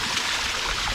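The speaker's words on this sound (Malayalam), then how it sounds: "നൈസൊരു വെള്ളച്ചാട്ടം" A small waterfall stream on a mountain trek from Phakding to Namche Bazaar makes a steady close rushing hiss of flowing water, with nothing else heard.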